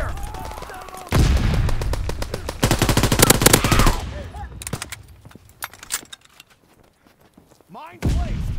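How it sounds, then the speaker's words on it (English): Heavy, rapid automatic gunfire fills a Call of Duty: WWII multiplayer match, with dense bursts of shots, some single reports and short pauses between volleys. "Taking heavy fire!"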